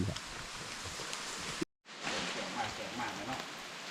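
Steady rain falls outdoors as a dense, even hiss that drops out briefly midway, with voices faintly present at times.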